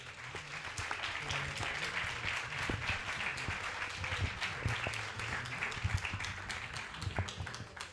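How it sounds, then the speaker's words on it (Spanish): An audience at a political talk event applauding two speakers, a steady, moderately distant patter of many people clapping that continues evenly with a low murmur underneath. "les demos un fuerte aplauso a Juan y a Roberto"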